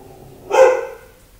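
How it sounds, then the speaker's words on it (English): A family dog barks at someone at the door, a single close, loud bark burst lasting about half a second in an otherwise quiet room. "our family dog just started barking."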